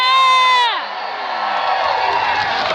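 A renaissance festival joust crowd roars with cheering and whoops, starting with a sharp shrill whistle-like cry that drops off into a broad, sustained wash of many voices shouting from the stands.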